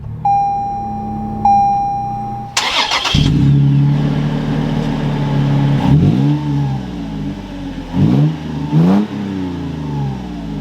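A 2021 Toyota 4Runner TRD Pro starting up from inside the cabin: a steady chime tone, then a loud crank and catch, a settling idle, and a few sharp revs rising and falling, close and clear.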